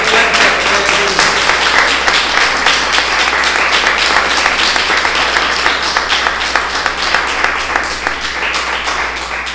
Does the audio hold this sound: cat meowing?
no